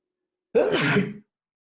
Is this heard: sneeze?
yes